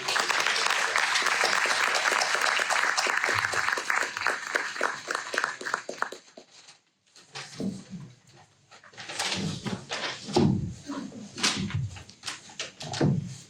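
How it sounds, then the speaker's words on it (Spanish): An audience at a book presentation claps steadily for about six seconds, then the applause thins into scattered claps and a few voices before ending. "Pido un aplauso para ellos"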